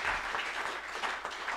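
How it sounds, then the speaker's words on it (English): Applause from a men's ministry church congregation, a dense, steady wash of clapping that fills the short moment at moderate distance. "Give a round of applause for Jesus one time, amen?"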